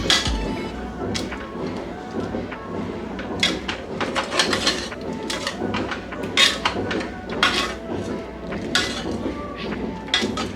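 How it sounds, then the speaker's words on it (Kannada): Cooked toor dal for rasam is mashed in a pot with a masher, making repeated soft thuds and metallic clatters at an irregular rhythm, close and fairly loud. "ಸೊ ಈ ರೀತಿ ಇದನ್ನ ಕಂಪ್ಲೀಟಾಗಿ ಮ್ಯಾಶ್ ಮಾಡ್ಕೋಬೇಕು"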